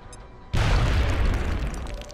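A frag grenade detonates in the XCOM video game: quiet lead-in, then a sudden loud boom that rolls on as a sustained rumble with debris.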